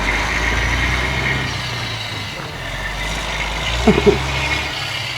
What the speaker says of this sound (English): the truck just pulled in behind us